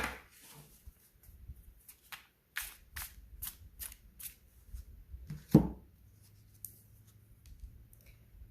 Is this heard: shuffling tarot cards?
yes